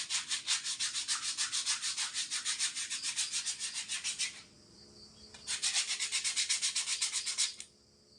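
Hand sanding of a wooden kitchen ladle, a close rhythmic scratchy rubbing in fast even strokes that stops briefly, then starts again for another run of strokes.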